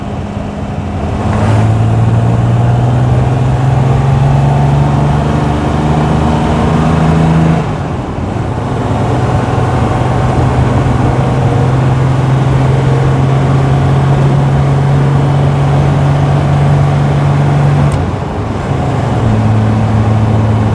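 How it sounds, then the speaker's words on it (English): A Triumph GT6, a classic British GT car, drops out of overdrive and its engine revs climb, a loud close-up drone with clear pitch steps at each change, steady for about twenty seconds. "I'm going to come back out of overdrive, get the revs up a bit more"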